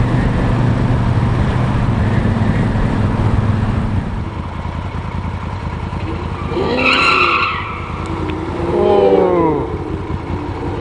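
A car drives along a road and skids, making a loud, steady rumble of engine and road noise. Tire squeal rises and falls in wavering tones near the end.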